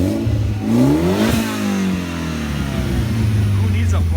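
A Mitsubishi Evo X running without a muffler, with an STM cat delete test pipe, revs up hard to a loud peak and then falls back. The note sweeps up and down through a raspy, booming exhaust, a voice faint underneath.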